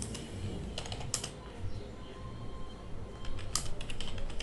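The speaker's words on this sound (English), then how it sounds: "Here I can type name" Quick bursts of typing on a computer keyboard, soft close clicks in uneven clusters with short pauses, over a faint steady background hum and no speech.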